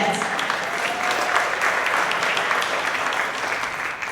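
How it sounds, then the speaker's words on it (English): Sustained applause fills a large room at a foster youth advocacy gathering at the Georgia Capitol, a dense, even wash of clapping from many people that lasts throughout. "Can you please give yourselves a round of applause for that?"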